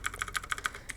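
Computer keyboard keys clack in a quick, quiet run of about a dozen light taps within one second, close and alone.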